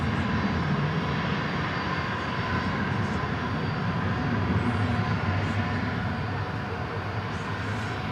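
American Airlines Boeing 737-800 departing toward Kansas City from DFW, a distant, moderate continuous jet engine rumble and hiss, steady and unbroken.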